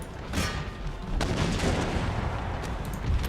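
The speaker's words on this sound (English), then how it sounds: "Oh, the Dragoons is actually firing." Dragoons fire a ragged volley of muskets in Empire: Total War, loud cracking bursts blending into a continuous rumbling fusillade for several seconds.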